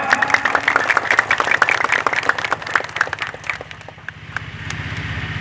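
A gathering in Losarang claps to honour a local Haji: brisk, steady applause from a crowd, with individual claps audible, dipping briefly before picking up again over a low background hum.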